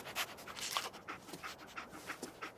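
Dogmeat, the dog companion in Fallout 4, pants close by in quick, rhythmic breaths that repeat steadily and fairly quietly throughout.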